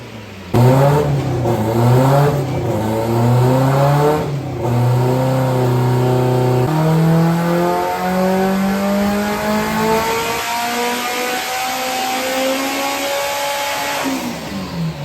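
A turbocharged Honda Civic engine, boost turned down to about 10 psi, revs hard and loud, its pitch climbing in stepped pulls then sweeping higher and dropping away as the revs fall back.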